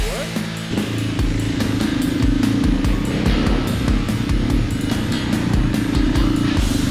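A dirt bike engine, an overheating trail motorcycle, catches after a brief start and settles into a loud, close, steady revving drone with rapid rhythmic firing pulses.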